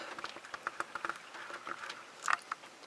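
Rain patters steadily outside a garage during work on a Holley four-barrel carburetor, a faint scattered ticking of drops with occasional sharper taps, heard at a distance through the walls.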